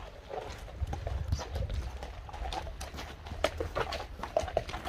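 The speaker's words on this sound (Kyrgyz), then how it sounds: "Мынакей атты байкаңыздар, дене мүчөлөрүн көрүңүздөр, мына басыгыны көрүңүздөр." A horse for sale walks nearby, its hooves clip-clopping in a steady, irregular rhythm, close and moderately loud over faint outdoor background.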